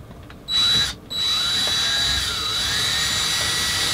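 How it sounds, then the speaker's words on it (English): A power drill driving a screw into hard pallet wood during a camper van cabinet build, whirring steadily and loudly at close range after a short start, with its pitch dipping under load. "I'm screwing into hard pallet wood, so that doesn't make anything easier for the screw"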